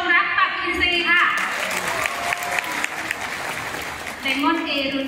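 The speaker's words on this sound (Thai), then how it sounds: "ขอเสียงปรบมือดังๆเลยค่ะ" A crowd at a network marketing event breaks into loud, sustained clapping, with someone speaking over the applause before and after.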